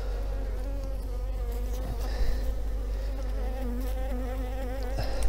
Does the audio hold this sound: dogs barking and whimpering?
no